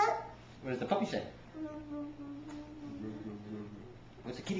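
A child imitates a puppy barking with a few short voiced yips and whimpers, close and fairly soft, with brief adult speech around it.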